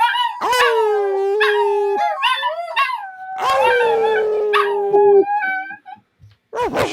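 Several dogs howl together in long, wavering pitched wails that rise and fall, with a brief break near the end before another howl starts up, loud and close.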